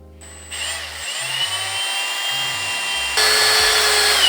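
A power drill bores a rough hole in a Turner DHR downhill bike frame, a steady close whine that holds for a few seconds and then grows louder and harsher near the end.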